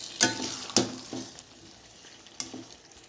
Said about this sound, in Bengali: এবার এঁচোড় আর আলুটা দিয়ে দেব। জলটা দিয়ে দেব। ভালো করে মশলার সাথে মিশিয়ে নেব।